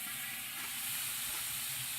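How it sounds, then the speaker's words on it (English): Water steams in a hot oven alongside home-smoked bacon, a steady, quiet hiss and sizzle that holds constant throughout without any talk. "and it's a hot oven, steaming it, cooking it."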